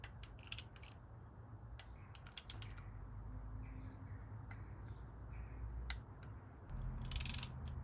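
A torque wrench tightens bolts on a crashed BMW S1000RR motorcycle, giving a few sharp ratcheting clicks and creaks spread over several seconds, close and moderately loud over a quiet hum, with a louder burst of clicking near the end.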